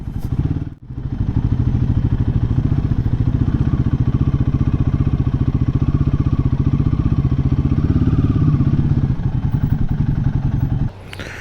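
A Royal Enfield Himalayan 450 motorcycle engine thrums at a steady, close, loud pace during a test ride, opening with a short thump and dropping off near the end.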